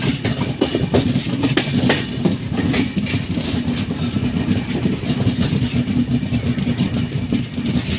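An Indian Railways train at Vilavade station on the Konkan line rumbles close and loud on a foggy morning, with steady rhythmic wheel clatter throughout.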